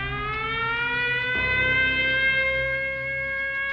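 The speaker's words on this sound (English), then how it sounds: "Sirens alert communities of imminent flooding." A loud civil defense siren warning of imminent flooding wails continuously with a steady, rising-and-holding tone, sounding alone without any voices.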